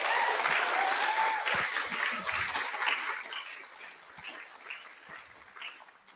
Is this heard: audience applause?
yes